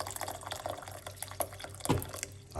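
About a cup of hot water is poured for thyme tea, giving close, splashy trickling with scattered drips and one louder splash near the end.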